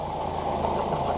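A Foxbody Mustang V8 idles at about 900 RPM with a steady, low, rumbling pulse from its exhaust, close and continuous without talk.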